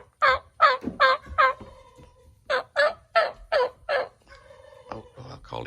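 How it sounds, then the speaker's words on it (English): A wild turkey gobbles repeatedly outdoors, two bursts of four to five loud, close, rattling gobbles separated by a short pause, then fainter calls. "He's gobbling his silly head off"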